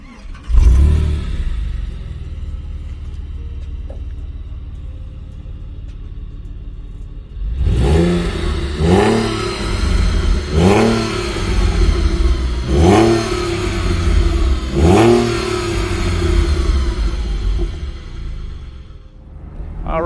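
A 2006 Porsche 911 Carrera Cabriolet rests quietly, then its engine fires up near 7.5 seconds with a loud start and settles into a series of sharp, repeated revs that rise and fall about every two seconds, close and unaccompanied by voices.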